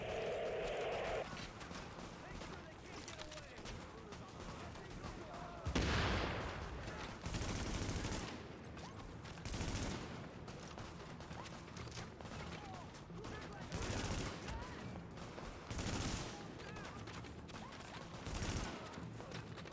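Machine gun fire crackles in bursts during a firefight in The Division, several sharp volleys spread across the scene, moderately distant, with voices talking between them.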